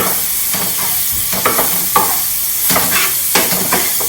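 Coriander and spices fry in oil for a fish curry, a steady bright sizzle with soft stirring scrapes and small crackling bursts, close and continuous throughout.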